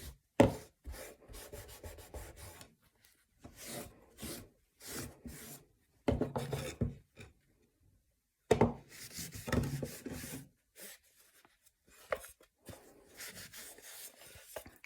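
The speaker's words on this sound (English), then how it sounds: "Just kind of leaving whatever's left on this rag to kind of just guide" A rag rubs brown wax onto painted furniture in short, scratchy bursts of friction separated by brief pauses, close and fairly quiet, with no talking.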